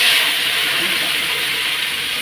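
Whole spices, cumin seeds and bay leaves sizzle steadily in hot oil in a home kitchen, a loud continuous hiss and crackle that holds for about two seconds without talk.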